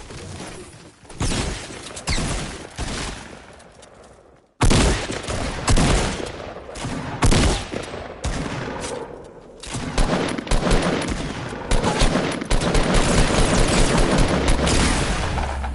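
Repeated loud shotgun blasts and other gunfire in a Fortnite match, irregular bursts of booming shots that run almost continuously, with a brief lull before a sharp resumption.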